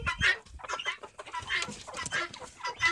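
Hens cluck inside a henhouse, close and moderately loud, with a rapid run of overlapping clucks and squawks from several birds.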